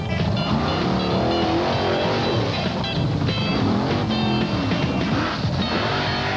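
Original Bigfoot number 1 monster truck, built about 15 years earlier, driving an obstacle course at the 1989 Indianapolis 4-Wheel & Off Road Jamboree: a loud, continuous engine roar that stays dense and steady throughout.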